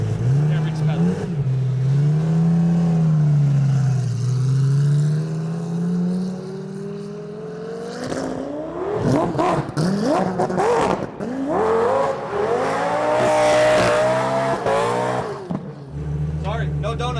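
An all-wheel-drive race car engine revs and surges through rising and falling pitch sweeps during an attempted burnout, loud and close, with people talking over the engine in places.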